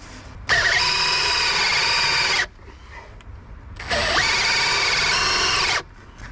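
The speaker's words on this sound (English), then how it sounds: "the hole I've just drilled will now guide this as it cuts the bigger hole" A power drill bores a larger hole through wood, following a smaller pilot hole, on a boat's rigging restoration. It makes two loud, steady, whining bursts of about two seconds each, separated by a short quiet pause, with no talking.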